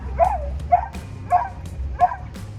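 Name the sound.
dog barking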